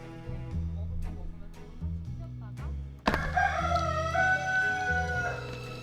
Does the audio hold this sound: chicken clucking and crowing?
yes